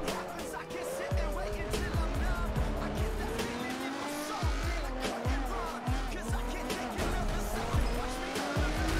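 Racing Camaro in a video game roars along with its engine revving loud and steady, while repeated tire squeals and skids cut through the noise, and excited voices shout over it.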